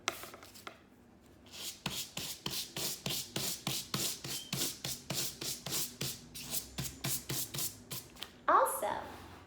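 A hard-bristled scrubbing brush dabbed and rubbed across paper to fill in a circle for a paper wreath, giving a steady run of brisk, close scratchy strokes in an even rhythm for several seconds, ending with a louder rustle.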